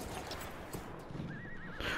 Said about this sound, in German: Ist es das legendäre Pferd?